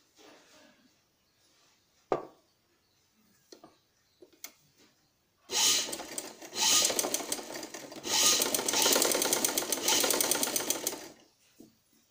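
A sewing machine stitching a trouser, with a few quiet clicks and handling taps, then a loud, fast, rhythmic mechanical whir that runs for several seconds, stops briefly, and resumes before fading out.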